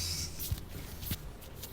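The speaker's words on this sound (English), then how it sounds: "Page turn, ladies and gentlemen." Paper pages of a play script are turned in a quiet room: two short, soft rustling flicks of paper, close and gentle, with no talking.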